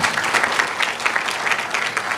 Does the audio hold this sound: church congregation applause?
yes